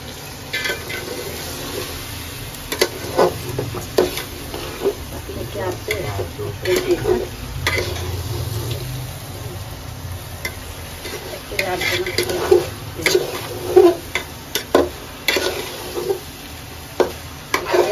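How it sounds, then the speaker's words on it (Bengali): Rice being fried and stirred in a pan over a full gas flame, scraping stirring strokes with a soft sizzle throughout and occasional utensil clinks against the pan. "এখন আমি চাউলটা ভালোভাবে ভেজে নেব"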